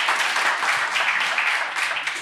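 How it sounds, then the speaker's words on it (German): A German panel audience claps for a short burst welcoming a guest, a bright, dense patter of many hands close by, steady throughout. "Sie dürfen gerne klatschen."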